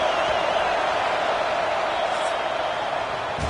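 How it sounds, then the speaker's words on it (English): Football stadium crowd noise during a Texas Tech third down against Kansas: a loud, steady roar of cheering fans that holds throughout without letup. "Guns up, and so is the noise. The crowd trying to help Tech on this third down"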